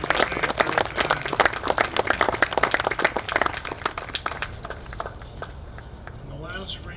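Audience applause for a veterans' honor committee at the 2017 California Vietnam Veterans Memorial name unveiling: a dense, steady burst of many hands clapping that gradually thins and fades toward the end.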